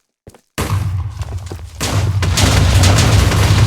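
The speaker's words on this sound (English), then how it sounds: "We activate the TNT and we blow the factory up." A TNT blast blows up a factory in a Poppy Playtime-style video game: a brief crack, then a heavy booming explosion that rolls into a long, loud rumble of debris and fire.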